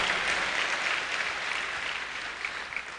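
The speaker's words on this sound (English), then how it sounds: "A round of applause for her, please." Steady audience applause at a farewell gathering for a retiring professor at a Nigerian university, a dense even patter of many hands clapping that fades slightly toward the end.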